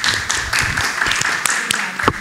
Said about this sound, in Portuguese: Então, vamos aplaudir.